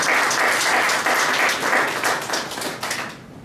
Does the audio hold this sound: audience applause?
yes